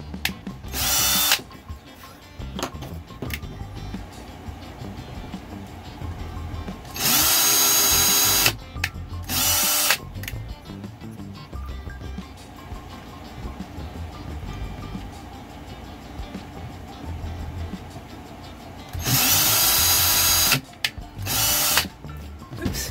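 A power drill drives short screws into a wooden 4th of July table decoration. The bursts of loud motor whine vary in length, and quieter handling and shuffling noises fill the gaps between them.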